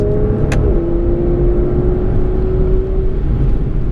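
Aston Martin Vanquish engine on a winding road, a loud steady drone heard from inside with one brief rise and a sharp click near the start, then a sustained whine holding most of the time.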